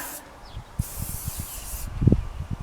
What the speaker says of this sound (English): Now I've got to spray the other one.